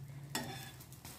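An egg and bread omelette sizzles in a pan just after being flipped, a short burst of frying and a brief scrape over a low hum, quiet and close.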